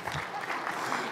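An audience at a medical lecture claps in a short, steady burst of dense applause, fairly faint and slightly distant.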